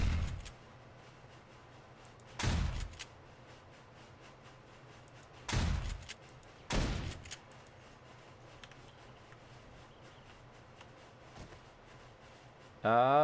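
Shotgun blasts in the survival game 7 Days to Die, roughly four sharp booming shots spaced a few seconds apart over a low steady hum, with a fainter thump near the end and an electronic warble at the close.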